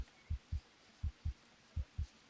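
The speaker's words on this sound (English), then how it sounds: "We got quite the heartbeat going on." Game heartbeat effect from a survival game set in the Amazon jungle: about eight deep, muffled thumps in regular paired beats, close and steady, with no other sound.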